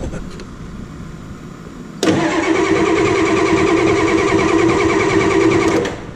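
A Ford 6.9 IDI diesel cranks after a manual fuel lift pump replacement. It starts abruptly, then keeps up a loud, steady, rhythmic churning close up for about four seconds before cutting off, with no talking.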